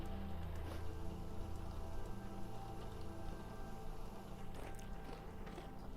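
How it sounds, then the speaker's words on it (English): Steady rain patters on a windowsill in a video game, a continuous close hiss of drops with a few brief louder taps, heard alone without speech. "You hear the rain on the windowsill?"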